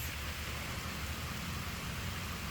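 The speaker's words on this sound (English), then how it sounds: "God's blessing rain." Steady rain falling outdoors, a dense, even hiss of drops with a low rumbling bed underneath, moderately loud and continuous with no voices.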